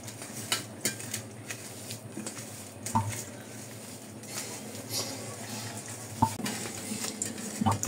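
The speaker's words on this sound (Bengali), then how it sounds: "এখন হচ্ছে গিয়ে সবকিছু মাখাবো ভালো করে" Pangas fish kofta mixture being kneaded by hand in a bowl, with soft squelching and irregular clinks and knocks against the bowl, steady and close.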